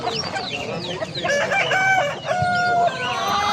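Chickens and roosters at the Edirnekapı poultry market crow and cluck loudly and close by, several birds overlapping in a continuous din, with a brief dip partway through.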